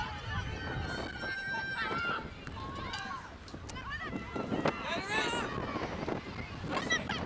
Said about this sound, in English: As you can hear the wind gusts of up to 35 miles per hour during the game.